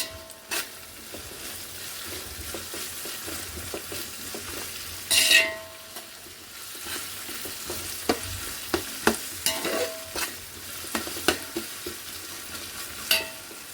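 Masala fries in oil until golden for a chicken dum biryani: a quiet, steady sizzle broken by frequent sharp clinks and scrapes of a spoon stirring against the pot.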